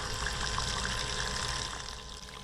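Small bilge pump on a car battery pumping water, a steady low hum under continuous splashing and trickling, close and even, with no voices.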